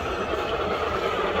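A continuous broadband rumble of a coal train rolling past, steady and fairly loud with no clear gaps or voices.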